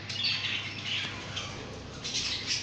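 Pet parrots squawk in bursts inside a breeding aviary, harsh calls repeating close by over a steady background hiss, with faint wing flutters mixed in.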